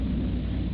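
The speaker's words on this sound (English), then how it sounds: "There's that thunder sound." Thunder sound effect from a 1935 film serial: a loud, continuous low rumble filling the whole short moment, with no voices over it.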